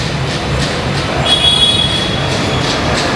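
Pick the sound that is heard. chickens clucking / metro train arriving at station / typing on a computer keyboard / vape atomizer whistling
metro train arriving at station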